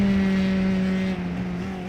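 A race car in a sim racing league event drives across the finish line to complete the race, its engine a steady, loud harmonic drone that holds one pitch and dips slightly near the end, with no talk over it.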